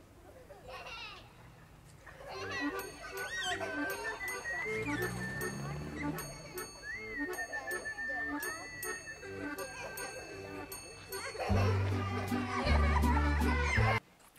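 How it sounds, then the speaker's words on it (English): Children playing outdoors and ringing bicycle bells open a recording of a Swedish song. The children's voices and repeated bright bell rings layer over the music, with a heavier low instrumental swell near the end. "You got the little kids playing, you got the outdoor noises, some bells from the bicycle."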